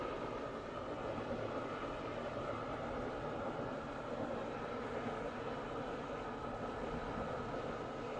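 A train rolls along its rails in the video game Transport Fever 2, giving a steady, continuous rumble and clatter that holds even throughout, with no voices over it.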